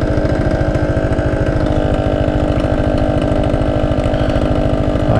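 A Honda Gyro Up motorcycle with an expansion chamber exhaust idles loud and close, its engine popping in a fast, steady two-stroke rhythm that runs throughout with no talk over it.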